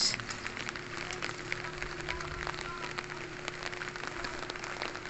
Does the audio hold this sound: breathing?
no